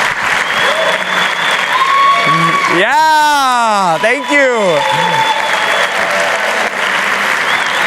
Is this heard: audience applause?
yes